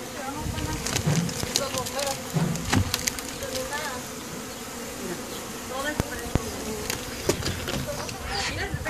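A dense, continuous buzzing of many bees from a hive inside a house wall, steady and close, with occasional clicks and knocks and some low voices.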